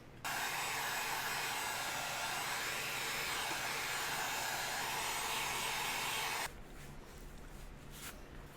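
A heat gun blows loud and steady for about six seconds as it warms craft foam being shaped into a mask, then cuts off, leaving a low background hum.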